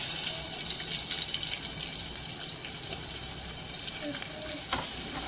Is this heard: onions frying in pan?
yes